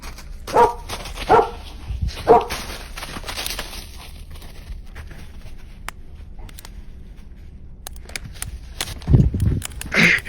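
A dog barks in a forest while being walked, a few short sharp barks spaced out near the start, then quieter rustling, with another pair of barks near the end.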